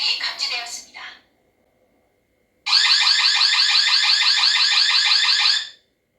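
A camping carbon monoxide alarm running its test mode, giving a short electronic voice announcement of a detected gas leak, then after a brief silence a loud, close, rapid warbling alarm tone lasting about three seconds.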